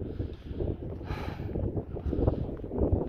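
Outdoors, wind buffets the microphone in uneven low rumbling gusts that rise and fall across the whole stretch.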